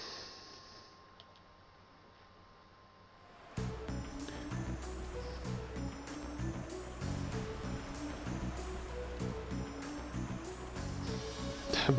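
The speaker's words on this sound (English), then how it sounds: "There they boarded a boat and made their way down the stream towards the city." Boat travelling down a river stream in a video game: after a quiet opening, a steady rush of flowing water and a low engine rumble come in and carry on loud to the end.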